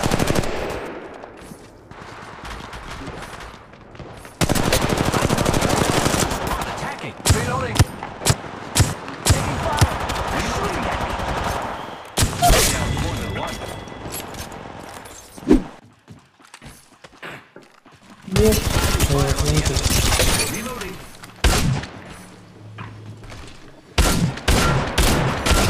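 Video game gunfire from Apex Legends Mobile: repeated bursts of rapid automatic fire and single shots, loud and close, broken by short pauses across the whole stretch.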